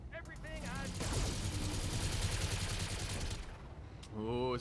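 Mech in the Battletech video game unloading all its weapons at once, a dense burst of rapid gunfire and launcher blasts lasting several seconds, with someone talking briefly before and after.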